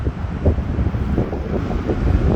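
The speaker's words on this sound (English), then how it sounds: "every time I make a video, it's windy" Steady wind buffets the microphone, a low rumbling roar with gusty swells throughout, no voices.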